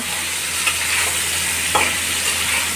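Chunks of taro scraped and stirred in a hot pan with salt and a little vinegar, soft sizzling frying under occasional spatula scrapes, close and steady with no talking.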